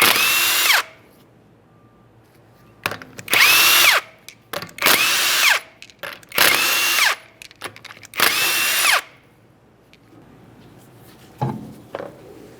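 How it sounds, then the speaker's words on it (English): An impact gun spins off the 19mm lug nuts on a Ford Fusion rear wheel in five loud, close bursts about a second each, separated by quieter clinks and handling noises, with one faint short burst near the end. "continue on to removing all 5 of your 19mm lug nuts and we can get the wheel off of here"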